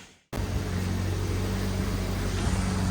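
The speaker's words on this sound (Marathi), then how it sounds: "चल गाडी चालू झाली." After a brief silence, a car's engine starts and settles into a steady, close idle hum, heard alone on a road trip in Goa.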